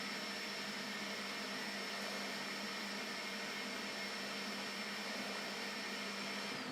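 A Creality K1 Max 3D printer runs its automatic bed-leveling routine, giving a steady, even mechanical whir and fan hum that holds unchanged throughout, fairly quiet and with no voices.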